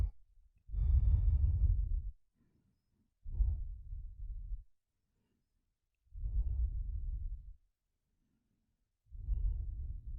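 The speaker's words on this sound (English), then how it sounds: "We'll find a few full breaths here" Slow, deep breathing in a yoga forward fold: four long, breathy, close-up breaths of about a second and a half each, separated by quiet pauses, with no talking.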